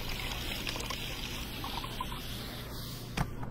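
Milk pouring in the Job Simulator kitchen game, a faint, steady liquid trickle over low background hum ending with a small clunk.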